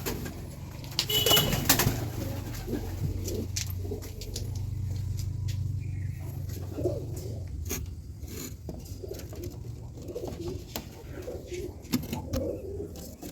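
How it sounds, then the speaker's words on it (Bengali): Pigeons coo in a mini zoo loft, low rounded calls that repeat near and fairly loud, with clicks and rustling around them and a passing car hum behind. "পায়রাগুলো এখানেই আছে"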